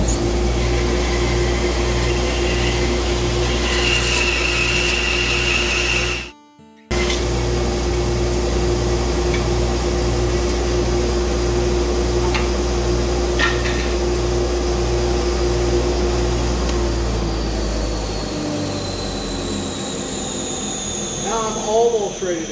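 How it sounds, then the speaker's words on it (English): A saw resaws a wooden acoustic guitar head plate down toward half an inch, a loud steady machine drone with a constant hum running the whole length, briefly cut off once, then tapering near the end. "So we're going to go ahead and resaw that."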